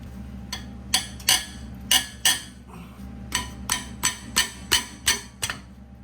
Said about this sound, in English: I'm gonna use a breaker bar with the 13mm just to loosen it up